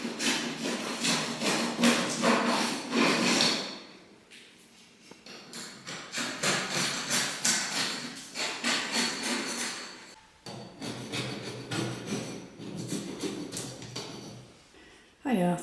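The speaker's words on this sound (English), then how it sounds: "More scraping." Scraper rasping old paint off a wooden Victorian stairwell, close and steady in rapid repeated strokes, with brief pauses between bursts of scraping.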